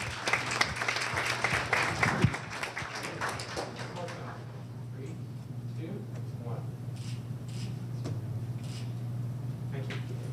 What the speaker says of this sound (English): we can give them another round of applause for their work